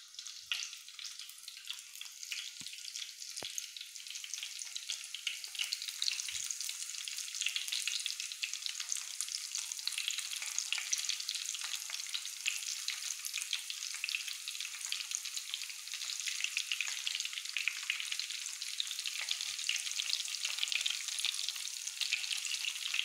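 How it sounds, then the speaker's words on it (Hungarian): Onion rings fry in a pan with a dense, continuous sizzle and crackle that holds steady and close throughout, broken only by a few faint knocks early on; no one speaks. "Ezek meg rossz hagymák, de ezeket tovább hagyjuk sülni"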